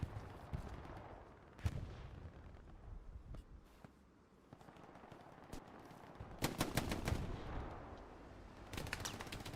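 Distant and near gunfire in Hell Let Loose on the Foy night map, with scattered single cracks and a dense volley of rapid shots, faint and echoing over ambient battlefield noise.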